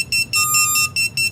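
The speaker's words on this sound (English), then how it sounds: "At this point, it's a cool little buzzer." Hellgate FPV drone buzzer sounding a series of shrill, piercing electronic beeps in short bursts with brief gaps, loud and close with no voices.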